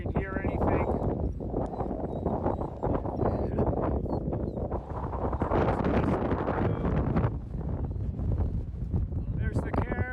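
Strong wind buffets the microphone on a mountain summit during a hike, giving loud, continuous roaring gusts that swell and dip, with a person speaking underneath much of the time.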